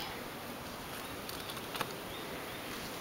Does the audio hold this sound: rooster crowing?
no